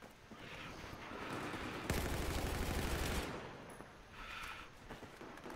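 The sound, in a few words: gunfire in the video game Battlefield 4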